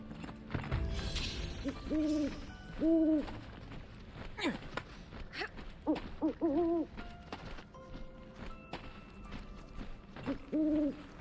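Owl hooting in Final Fantasy VII Rebirth, a Phoenix Owl guiding the way to a spring: several paired hoots spaced across the scene, moderately loud over game ambience with soft clopping footsteps.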